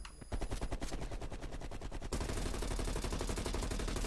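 Auto turrets firing in Call of Duty Cold War, rapid evenly spaced automatic shots forming a steady mechanical stream that grows denser partway through, heard alone with no talking.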